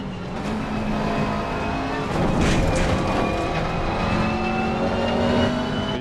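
A GT race car engine in a racing video game, loud and close, revving through gear changes with a braking dip and a hard acceleration.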